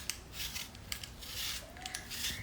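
Apples being peeled by hand with a peeler or knife for an apple rhubarb crisp, giving soft, repeated scraping and rasping strokes that are fairly quiet and close.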